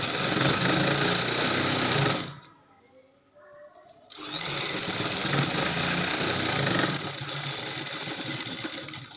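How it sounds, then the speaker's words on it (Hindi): A sewing machine stitches lace along the edge of sleeve fabric. It gives a close, continuous motor whir, stops for about two seconds, then starts again and runs steadily to the end. "सीधी रख के जो लैस का किनारा है उसके ऊपर हमने सिलाई लगानी है, बिल्कुल किनारे के ऊपर।"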